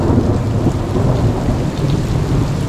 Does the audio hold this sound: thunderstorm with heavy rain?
yes